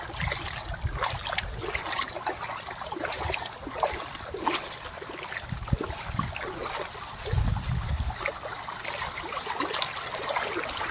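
Runoff rainwater flows and trickles everywhere over muddy ground, washing the dirt away in a steady, broad rush with scattered splashy bursts, near and continuous, and no voices.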